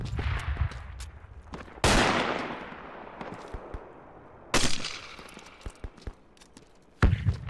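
Heavy gunfire in Project Reality, a PKM and a Dishka heavy machine gun on a mountaintop, with loud close shots and short bursts echoing and decaying, plus scattered single cracks and distant pops in between.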